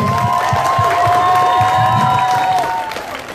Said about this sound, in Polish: Wielkie brawa dla sekcji lokalnej!